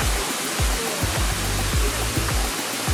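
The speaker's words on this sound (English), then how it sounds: "we finally made it to the waterfall." Waterfall at Hell's Hollow in McConnell's Mill State Park, a steady broadband rush of falling water filling the scene, fairly close and continuous with low thumps from wind or handling and no talk.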